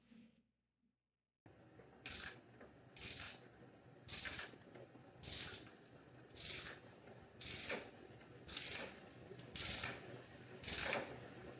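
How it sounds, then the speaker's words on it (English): Torque wrench tightening suspension bolts on a race bike, 14 mm and 17 mm fasteners, heard as a series of about nine rhythmic ratcheting pulls, each a bright rasping burst over low workshop rumble. "I'm gonna get them torqued down to spec"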